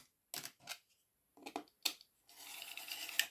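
Paper is cut along a ruler while making a craft envelope folio: a few short scraping strokes separated by pauses, then a longer continuous rasping cut at close range.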